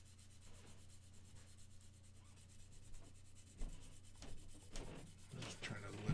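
Fine grit sandpaper rubbing across a plastic part of a 1/48 mega size Gundam RX-78 model kit, a soft continuous close scratching that grows louder and more irregular toward the end.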